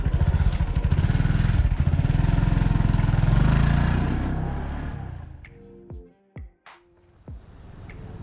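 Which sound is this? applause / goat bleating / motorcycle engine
motorcycle engine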